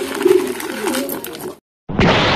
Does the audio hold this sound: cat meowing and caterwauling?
no